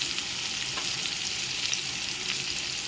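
Spiced potato samosa filling fries in a pan with a continuous, even sizzling hiss, close and moderately quiet, with no voices.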